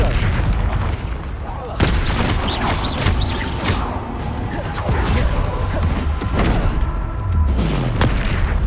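Repeated booming spell blasts and crashing impacts from Confringo and other combat spells in the Hogwarts Legacy video game, loud and busy, layered with mechanical clatter and game sounds.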